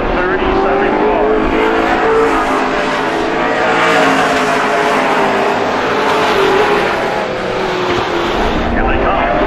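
Stock race cars come out of a turn, their engines droning and revving in a loud, steady roar as a commentator talks over them.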